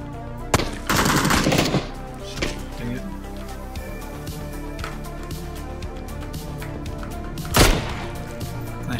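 Video game gunfire cracks out in sharp bursts, a rapid volley early on, a few scattered single shots, then another loud burst near the end, over a quiet background.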